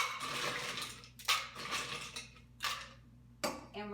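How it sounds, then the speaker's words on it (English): Ice cubes clatter and rattle into a metal cocktail shaker while a Halloween vampire cocktail is mixed, with several sharp clinks and bursts of tumbling over about four seconds, close and fairly quiet. "put some ice in the shaker."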